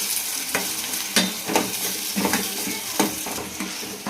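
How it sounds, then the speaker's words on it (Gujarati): Chopped tomatoes stirred into a pan of chili for a Gujarati curd-based peanut bhajiya curry, a close sizzle broken by repeated spoon scrapes and clinks against the pan, with no voices. "ટમાટા એડ કરી અને આપણે ફરીથી પાછું એને મિક્સ કરીશું"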